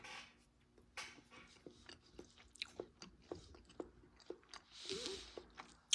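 Someone chews green beans with smoked ham, close soft crunching and squishy bites in an uneven rhythm, quiet and intimate.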